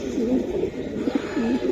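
A pair of pigeons, a male and a female, give soft, low, rolling coos in repeated bursts, fairly close, over a steady background hum.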